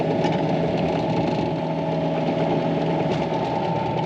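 A brand-new John Deere 50G mini excavator tracks backwards, its diesel engine holding a steady, fairly close mechanical drone with a constant hum and faint rattling vibration throughout, no voices over it.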